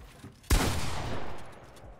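A sharp, loud shot in a competitive first-person shooter match cracks out suddenly, its echoing tail fading over about a second, with a couple of faint pops before it.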